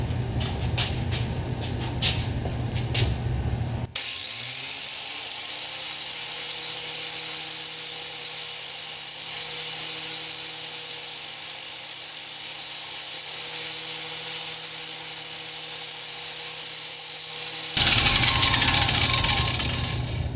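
A vise-mounted angle grinder smooths a bandsaw-cut scrap metal edge, giving a steady, loud, continuous whine and grinding hum that holds for most of the stretch, with harsher, brighter bursts at the start and end.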